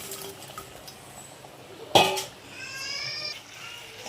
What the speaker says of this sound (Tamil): சுகர் சிரப்லேயே இந்த பிரெட் பீசஸ் எல்லாம் நல்லா ஸ்மாஷ் பண்ணிக்கோங்க